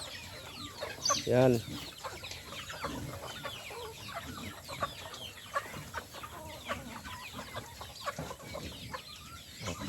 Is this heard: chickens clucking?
yes